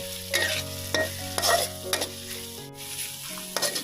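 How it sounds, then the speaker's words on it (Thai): Pounded chilli paste stir-fries over medium heat for a spicy catfish stir-fry, a steady close sizzle broken by repeated scraping strokes of the spatula against the pan. "ไฟก็กลางๆนะครับไม่ต้องแรงมากนะครับ ค่อยๆผัดไปให้มันหอม"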